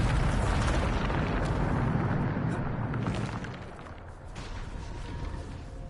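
A Bombarda spell detonating in the Hogwarts Legacy video game, heard as a loud, sustained rumbling blast that fills the whole clip and fades slightly toward the end, with no talk over it.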